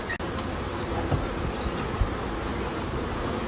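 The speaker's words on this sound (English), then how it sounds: "the bees coming home will go straight into the flow box" Honeybees hum around the frames of a Flow Hive, a dense continuous buzzing of many insects heard close up, steady from start to finish with no speech.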